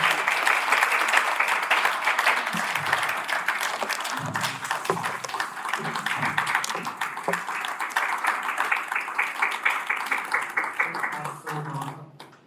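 Sustained applause from an audience at a law school public lecture greets a speaker's introduction, many hands clapping steadily before fading out near the end.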